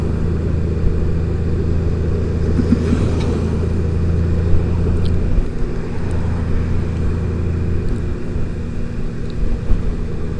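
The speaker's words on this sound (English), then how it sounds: "Right away it shifts up into 5th gear. And we're just doing about 50 kilometers an hour." A 2018 Honda Goldwing DCT motorcycle cruising at about 50 km/h in fifth gear, nearly new with about 170 km on it: steady low engine drone and road and wind rumble throughout, without talk.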